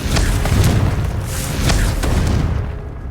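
Confringo blasting spell explosion in Hogwarts Legacy, a loud booming blast with a rumbling low-end tail and a few sharp crackling bursts layered over continuous game background noise.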